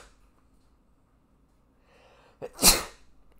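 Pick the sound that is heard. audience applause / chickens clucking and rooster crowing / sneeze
sneeze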